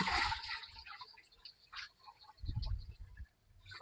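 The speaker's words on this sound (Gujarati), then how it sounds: "સૌ પ્રથમ આપણે જે 10 લીટર ગૌમૂત્ર છે તે આપણે જે 250 લીટરનું પાણી નાખ્યું છે તે એમાં આપણે નાખીશું" Cow urine being poured from a container into a barrel holding about 250 litres of water for jivamrut preparation makes two short, soft splashing gushes separated by quiet, faint and close.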